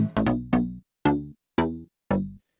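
A Native Instruments Massive synth, without effects, plays a short phrase of plucky, harmonically rich tones: a quick cluster of three notes, then three evenly spaced single notes, each fading out, dry and clear.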